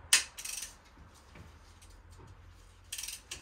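A ratchet wrench turns a 19mm Allen socket on a Harley-Davidson Street Glide Special fork, giving short bursts of rapid clicking at the start and end with quieter mechanical ticks between.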